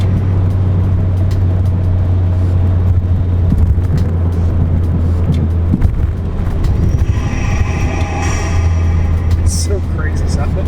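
A 2017 Ford Fiesta ST with a 2JR intake building turbo boost, a steady loud engine drone with a rising whoosh and whistling turbo noise swelling toward the end, close by.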